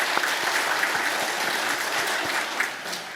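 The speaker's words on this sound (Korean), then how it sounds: "우리 찬양대 한 박수 보내주시기 바랍니다." Church congregation applauding the choir after a Mother's Day hymn, a dense, steady burst of clapping filling the room for several seconds with no talk over it.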